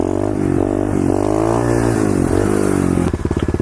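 A pit bike ridden in gear through a wheelie, its small engine droning loud and close with pitch rising and dipping as the throttle changes, ending in a choppy, pulsing idle.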